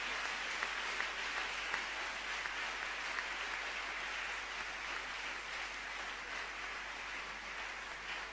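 An audience applauds the Prime Minister at a gathering of pastors in Côte d'Ivoire, a dense, even wash of clapping that holds steady throughout without pause.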